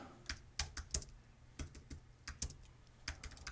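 Keys tapped on a computer keyboard at an uneven pace, sharp individual clicks in short bursts, close by but fairly quiet, with no voices.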